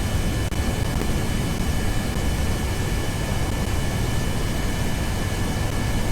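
Aircraft in the video game Kerbal Space Program coming in to land on a runway, a steady broadband engine roar with a constant high whine, loud and unbroken throughout with no talking.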